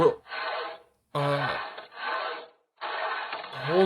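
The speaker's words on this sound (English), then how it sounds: "Right now, I'm sawing away at the ceiling boards on the first floor." Wooden ceiling boards being sawn in the Steins;Gate video game, heard as three rasping stroke bursts separated by short gaps, close and fairly loud with some tonal squeal at the stroke ends.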